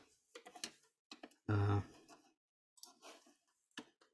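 Computer keyboard typing in sparse bursts of clicks and taps, with one louder clattering burst near the middle, close and fairly faint, with no talking.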